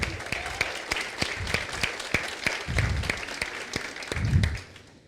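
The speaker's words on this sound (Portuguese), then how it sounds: "pedir uma salva de palmas para todas as mães aí" Scattered, fairly quiet applause from a TEDx audience: distinct individual claps in an uneven rhythm, with a few low murmurs between, tapering off at the end.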